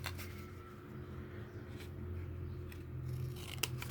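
Scissors cut through paper while a small gift box is folded by hand, with quiet, steady snipping close by over a low background hum.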